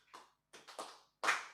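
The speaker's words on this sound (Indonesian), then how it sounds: "Bisa tepuk tangan seperti ini saudara?" A few hands clap during a church worship service, with sparse, uneven claps: one, then a pause, a quick pair, and a final louder clap, close and otherwise quiet.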